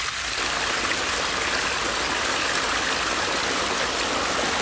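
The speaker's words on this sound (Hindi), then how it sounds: "अब देखें प्रेशर से पानी भी निकल रहा है" Water gushes out under pressure from a pump as a loud, steady, hissing rush that runs without a break from start to end.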